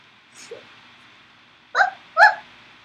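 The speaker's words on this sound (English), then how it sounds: "That's a dog." A dog barks twice, sharp and fairly close, after a soft faint yelp, against a quiet indoor background.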